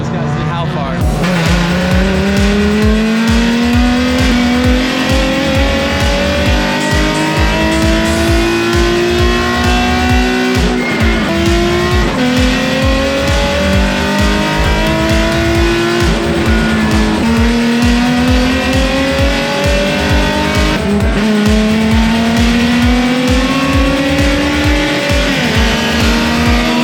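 Race cars drifting at GRIDLIFE Midwest 2022, loud and close: high engines rev and rise over and over with tire squeal and skidding, the roar continuous and dense from start to finish, voices faintly under it.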